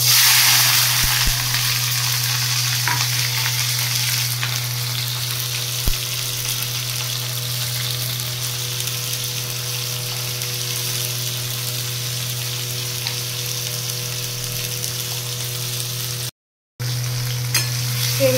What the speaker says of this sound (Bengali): তেল গরম করে এই যে ভেন্ডিগুলো ছেড়ে দিয়েছি, নুন হলুদ দিয়ে দিয়েছি।